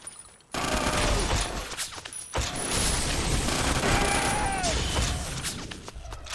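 Gunfire in 50 Cent: Blood on the Sand, loud continuous automatic bursts starting abruptly after a short quiet opening, with a brief break near two and a half seconds and rattling mechanical clatter between shots.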